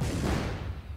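An artillery shell ricochet from the video game Shellshock gives a single deep, loud booming burst that rolls off and fades within a second.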